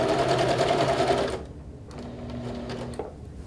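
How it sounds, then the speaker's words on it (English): A sewing machine stitches over an opened seam in a loud, fast, even mechanical run that stops abruptly, followed by a fainter, slower stretch of stitching close by. "Take and open up this seam and sew over it."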